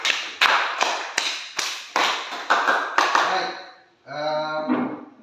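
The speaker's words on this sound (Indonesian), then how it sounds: "Tepuk tangan dulu untuk baik" Applause from a small group in a classroom, about a dozen loud, separate claps in an uneven rhythm, close by, followed by a short burst of a voice.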